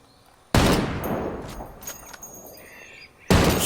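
Unsuppressed sniper rifle shots in a Ghost Recon game, two loud sharp cracks spaced about three seconds apart, each with a rolling echoing tail.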